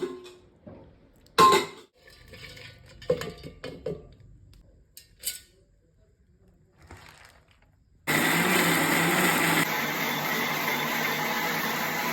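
Light clinks and taps from kitchen utensils come first. Then a mixer grinder starts up loud and steady, grinding soaked rice and corn for idli batter, and runs without a break to the end.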